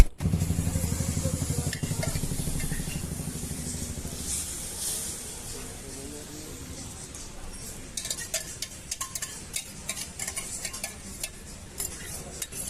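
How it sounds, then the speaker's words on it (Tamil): Chow chow (chayote) omelette batter of beaten egg hits a hot griddle with a loud, dense sizzle for the first few seconds. The sizzle then settles to a softer hiss, punctuated by light utensil clicks. "நம்ம அப்படியே நல்லா கலக்கி கல்லை ஊற்றிடலாங்க"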